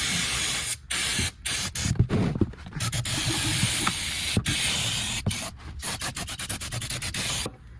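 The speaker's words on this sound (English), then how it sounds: "I'm gonna go ahead and spray some brake cleaner underneath here" Bursts of aerosol brake cleaner spraying close by under a 2015 Mazda 3 transmission, a steady broadband hiss broken by short pauses and quick repeated squirts.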